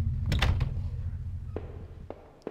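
A door in a horror-style video game creaks and thumps open with a heavy low rumble, followed by a few sharper knocks and clicks, close and fairly loud with no talking.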